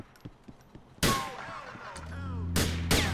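Shotgun blasts in the video game GTA IV, a few sharp, loud booming shots spaced apart, with lighter clicks and engine-like hum between them.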